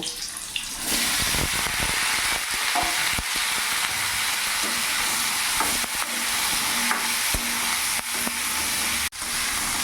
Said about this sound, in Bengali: এবার ওই তেলের মধ্যে আমি এঁচোড়টাকেও ভেজে নেব।